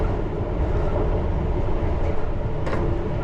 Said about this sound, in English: You can see the Vic train just going into the platform